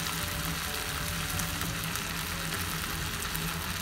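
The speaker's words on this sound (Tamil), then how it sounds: "ஒரு 2 நிமிஷம் காயெல்லாம் நல்லா வதங்கட்டும்." Vegetables for Tirunelveli tiffin sambar sautéing in a pan, a dense, even, continuous sizzle holding steady throughout at close range with no voices.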